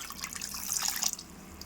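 Cold water runs from a tap over chenna, the curdled milk solids for rasgulla, making a close, steady splashing stream that swells briefly in the middle.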